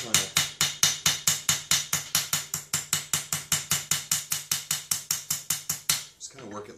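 A blacksmith's hammer strikes steel on an anvil while forging a rose, ringing out in a fast, even run of about thirty sharp metallic blows, close and bright, with no pause until they stop near the end.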